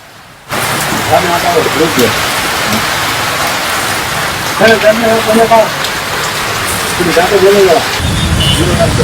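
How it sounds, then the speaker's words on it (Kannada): Heavy rain pours steadily on a flooded street in North Karnataka, a loud continuous hiss, with voices talking over it in places. "ನಿನ್ನೆ ರಾತ್ರಿಯಿಂದ ಉತ್ತರ ಕರ್ನಾಟಕ ಭಾಗದಲ್ಲಿ ಭಾರೀ ಮಳೆ ಆಗಿದೆ"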